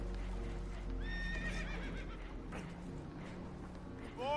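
Spooked horses whinny and neigh in several rising cries over a steady rumble and hoof clatter in a Red Dead Redemption game scene, loud and close, with no talk.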